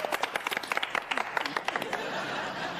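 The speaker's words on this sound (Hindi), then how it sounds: "एक बार जोरदार तालियां हो जाएं" A studio audience on the TV comedy show Happu Ki Ultan Paltan claps in brisk, uneven bursts with some chatter mixed in, then settles into a steady wash of crowd noise.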